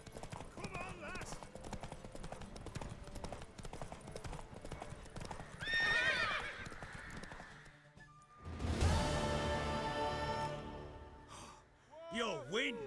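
Hoofbeats of a horse galloping in The Witcher 3: Wild Hunt, loud steady clip-clop with a whinny near the end, under background music and occasional voices.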